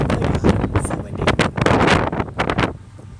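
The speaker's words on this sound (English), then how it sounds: "Oh my God, it's so windy." Strong gusting wind batters the microphone in an open cemetery on a very windy day at Evergreen Cemetery in Barrington, Illinois, loud rumbling bursts rising and falling in quick irregular waves.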